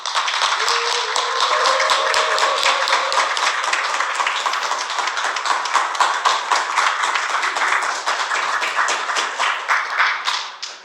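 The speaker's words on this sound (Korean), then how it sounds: "오늘 우리 구미교회 김진희 형님 나오실 때 우리 큰 박수 좀 부탁드리겠습니다" Enthusiastic applause from a church gathering's audience as a brother from Gumi Church comes forward, steady dense clapping that fills the room for about ten seconds before slowly tapering.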